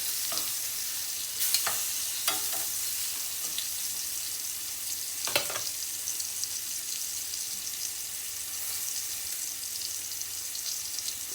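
Lamb chops browning in a pan give a steady, close broadband sizzle throughout, with a few sharp scrapes or clicks of a utensil against the pan and no talking.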